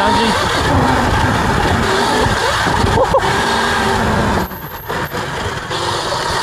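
A modified Sur-Ron electric dirt bike pulling hard at full throttle, with a loud, continuous close roar of motor and rushing wind that briefly dips near the end, with no speech.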